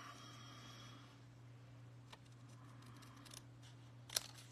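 A few quiet, isolated snips of scissors cutting paper for a folded card over a low steady hum, with a sharper cut near the end.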